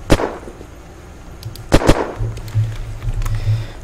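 Sharp, loud shots from a Russian gun in the video game Unturned: one crack, a short pause, then two quick shots close together, followed by faint game ambience.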